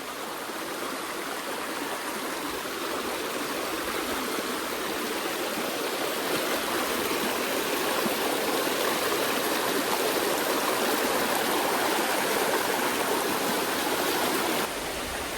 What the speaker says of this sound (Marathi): भाई खूप प्रेशरने पाणी हा